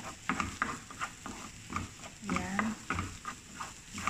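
Food is stirred in a pan while sautéing in olive oil, light scraping strokes in an irregular rhythm at close range, with faint sizzle underneath.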